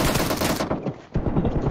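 Rapid gunfire in the Psycho shooter video game, a dense burst of automatic shots near and loud, briefly thinning mid-way before resuming.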